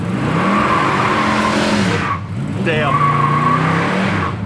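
The tires of a 1965 Chevrolet Impala SS 409 squeal loudly and steadily on wet pavement, with the engine roaring close by. The sound breaks briefly, then resumes as a man exclaims.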